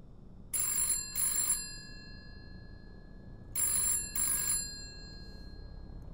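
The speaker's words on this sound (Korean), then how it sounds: "핸드폰이 울린다" A mobile phone rings close by in two double-burst rings with a pause between them, bright and electronic, with no voices over it.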